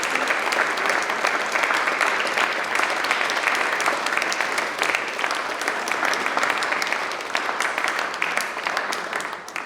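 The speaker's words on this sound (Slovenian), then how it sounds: "Velik aplavz." Sustained, dense applause from an audience at a Slovenian book launch on Kočevje folk song heritage, steady and lively for nearly ten seconds with no talk.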